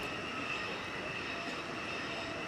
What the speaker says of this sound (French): Bien, le moteur tourne